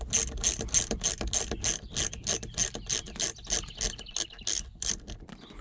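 A hand ratchet loosens the bolt holding a C4 Corvette's removable roof panel, giving a fast, even run of sharp clicks at close range that keeps going for several seconds, alone and without talk.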